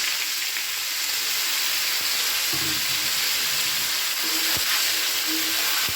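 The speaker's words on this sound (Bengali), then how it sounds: "খুব ভালো করে এটাকে নাড়াচাড়া করে আলুর মতোই একটু লালচে করে আমি ভেজে নেব।" Cauliflower fries in spiced oil in a pan, a loud, dense, steady sizzle close up, with a few soft clicks and scrapes from stirring.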